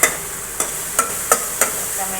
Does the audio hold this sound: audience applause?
no